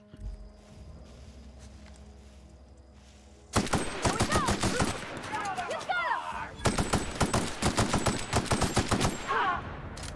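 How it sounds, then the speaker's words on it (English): Assault rifle fire in The Outer Worlds on Hard: after quiet ambience, sustained rapid bursts of automatic shots erupt and continue loud and close, with brief pauses between volleys. "Assault rifle."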